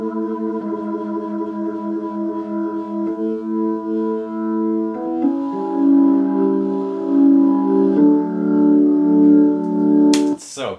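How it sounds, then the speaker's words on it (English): Hammond B3 organ played through a Leslie speaker, sustained chords with a swirling, wavering tone that grows louder and fuller midway, ending with a brief clattering noise. "he's playing a B3 organ through a Leslie"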